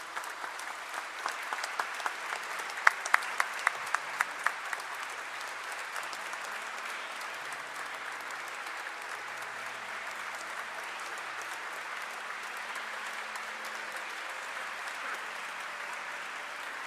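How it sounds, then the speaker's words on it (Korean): A standing congregation applauds the entering cardinal at a thanksgiving Mass in Seoul, sustained, even clapping from a large crowd with a few sharper individual claps early on, continuing steadily for the full length. "모두 일어나셔서 큰 박수로 맞이해 주시기 바랍니다."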